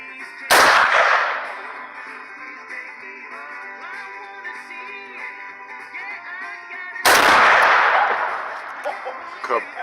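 Two powerful Tannerite exploding targets detonate several seconds apart, each a loud, booming burst that rolls off slowly, with voices talking in the quieter stretch between the blasts.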